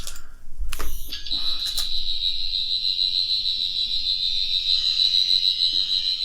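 A steady high-pitched electronic whine from a toy sonic screwdriver sounds continuously for several seconds, preceded by a few clicks and brief buzzy bursts.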